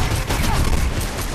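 Dense, continuous gunfire rattles in the Mirror's Edge first-person action game, a loud unbroken burst of rapid shots filling the whole moment.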